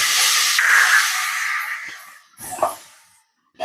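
Garlic chili paste drops into hot oil already tempered with cumin and asafoetida, bursting into a loud, bright hiss that fades over a couple of seconds, then brief spluttering crackles and a final renewed sizzle.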